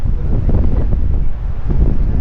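Steady sea wind on Golo Island, Occidental Mindoro, roars and buffets a microphone, a dense low rush that swells and eases slightly with a constant blustery texture.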